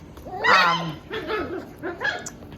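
Welsh puppies about five and a half weeks old yip and whimper in three short bursts of high, wavering cries, close and fairly loud with quiet gaps between them.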